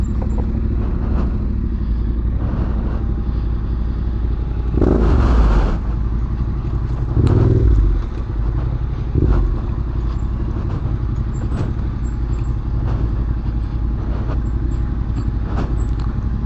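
A motorcycle engine labours in a steady drone on a steep dirt mountain descent, with a few brief revs and clattering bumps over rough ground.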